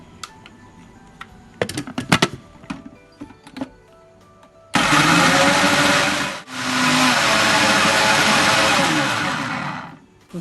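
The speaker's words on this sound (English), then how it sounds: "and we blend it fine." Onions, ginger and garlic with water are run in a blender for a beef korma, with a loud, steady whirring roar that starts abruptly, dips for a moment and then continues, after a few clattering setup knocks.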